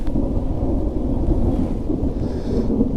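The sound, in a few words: thunder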